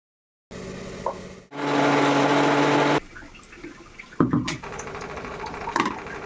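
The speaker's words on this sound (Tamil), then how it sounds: "அது மிக்சி ஜாரில் சேர்த்துட்டு அது வந்து கிரைண்ட் பண்ணிக்கிறேன்" A kitchen mixer grinder roars loudly for about a second and a half while grinding coriander-mint chutney, then stops, followed by clinks and handling noises of the jar.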